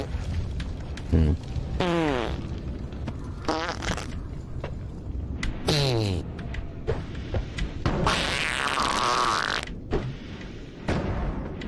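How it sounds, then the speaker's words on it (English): Comic fart gas effects from the Noita video game, several sputtering bursts scattered across the stretch, mixed with someone speaking and laughing over them. "I'm gonna do fart gas."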